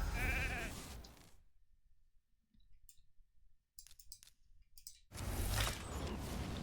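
A sheep bleat from a polymorph skill in the RAID: Shadow Legends video game, with a short wavering bleat up front, then quiet game clicks and small effects, and a second burst of game sound at the end.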